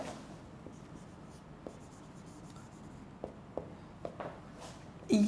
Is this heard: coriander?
no